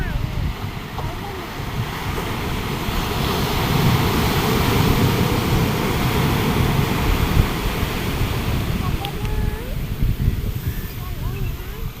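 Sea waves roll onto Asia Road beach in a steady, loud wash of surf, with wind buffeting the microphone throughout and no clear breaks between waves.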